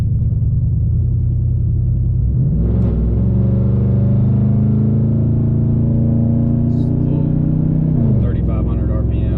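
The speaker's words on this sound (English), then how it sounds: "We'll romp on it a little bit, just to get up to, I think the speed limit's 65," A truck on 35-inch tires accelerates onto a highway, a loud low engine rumble that rises and shifts through gears, with someone talking over it.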